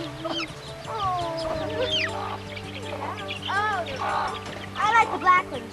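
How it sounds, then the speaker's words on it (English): Calico and black chickens cluck and squawk in short, irregular bursts, fairly close, mixed with people talking over them. "A calico chicken."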